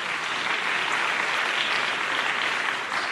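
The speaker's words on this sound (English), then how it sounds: "So I think they deserve a great round of applause for really good work." Steady audience applause at a CX Talks event, dense and sustained throughout at an even, fairly loud level with no voices on top.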